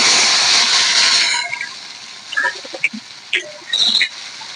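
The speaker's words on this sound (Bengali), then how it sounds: "দুটো শুকনো লঙ্কা ফাটিয়ে দেবো, একটুখানি জিরা" Dry red chillies and cumin seeds hit hot oil in a pan with a loud burst of hissing sizzle that fades into scattered crackles and pops, close and without talk.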